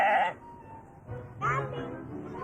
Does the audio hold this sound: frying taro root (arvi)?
no